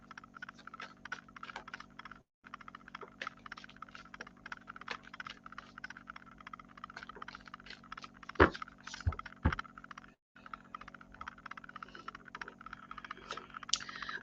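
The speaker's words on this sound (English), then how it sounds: "You saw me shuffle those cards." A deck of tarot cards is shuffled up close in a steady stream of quick, crisp papery clicks and flutters, with a couple of louder snaps partway through and no talking.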